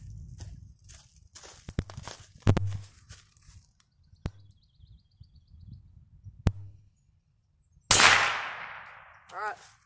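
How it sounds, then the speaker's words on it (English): Sharp .22 LR rifle shots aimed at an old fire extinguisher outdoors, several isolated cracks spread over quiet background, followed by a loud burst and hissing rush as the extinguisher vents. "We're gonna be shooting that fire extinguisher over there."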